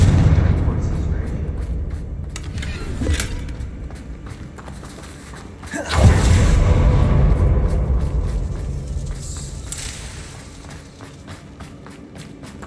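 Confringo fire spells explode in the game Hogwarts Legacy, with two heavy booming blasts rising out of a rumbling battle din while a voice calls out.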